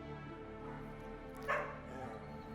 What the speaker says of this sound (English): Oh, you rescued a dog.